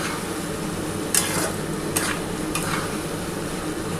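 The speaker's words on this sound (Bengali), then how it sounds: "একটু ভালো করে কষিয়ে নিই বন্ধুরা।" Spice paste for a light rohu fish curry with summer vegetables hisses steadily as it sautés in a pan, with a few quick stirring scrapes and a low hum underneath.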